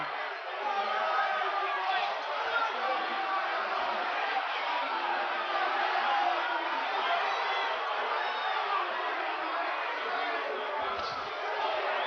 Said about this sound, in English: they are yelling Tyson, Tyson